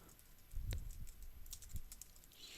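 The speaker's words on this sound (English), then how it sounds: "Type around, it's just like a regular text editor." Scattered keystrokes on a computer keyboard while typing in a text editor, quiet and close, with irregular taps and a few heavier presses, no voices.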